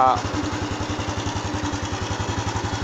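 A Honda Wave 110i motorcycle with a newly replaced fuel pump runs just after starting, its engine thumping in a fast, even idle rhythm close by, with a brief voice at the very start.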